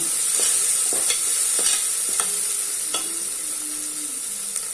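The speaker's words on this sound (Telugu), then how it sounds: "టమాటాలు కూడా వేసేద్దాం ఒకసారి కలుపుకుందాం" Chili powder and tomatoes stirred into onions frying to golden in a pan, with a steady sizzle and intermittent scraping strokes of the spoon, close and unvoiced.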